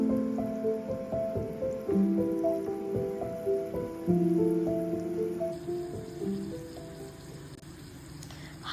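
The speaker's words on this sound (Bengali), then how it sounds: "হালকা লাল করে 2 পিঠ ভেজে নেব।" Marinated chicken for black pepper chicken frying in hot oil and butter: a steady, rain-like crackle and spatter that carries on evenly and up close, with a low tonal hum running underneath.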